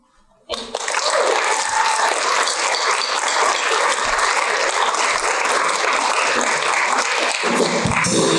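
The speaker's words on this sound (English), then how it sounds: "One round of applause, please." Audience applause at a high school poetry slam, starting abruptly after a brief quiet moment and holding as a steady, dense wash of clapping in a hall, with a few faint background sounds near the end.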